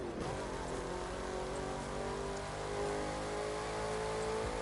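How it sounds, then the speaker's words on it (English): A car engine in the video game The Crew 2 revs and roars steadily, loud and close, with a rising, grinding tone and a sustained low rumble throughout. "I love the sound of this car."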